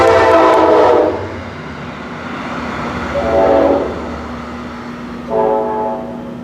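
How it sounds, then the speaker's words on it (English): A train horn gives three long, loud honks, the second and third shorter and spaced a couple of seconds apart. A steady rumble of the passing train runs underneath, heard near a car restoration workshop. "You think they're honking at us?"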